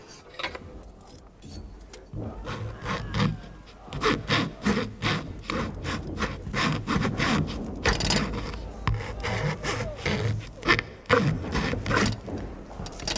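Steady rhythmic rasping of a saw cutting back and forth, close and fairly loud, continuing for several seconds without any voices.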